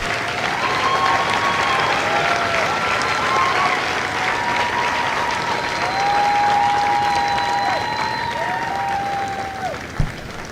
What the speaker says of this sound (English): please join me in a round of applause for the company staff of Company A